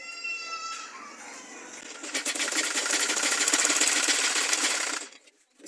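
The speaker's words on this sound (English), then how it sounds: "then you sew it straight." A sewing machine stitches fabric for a tote bag, its fast steady whirring running loud and close for several seconds before stopping abruptly near the end.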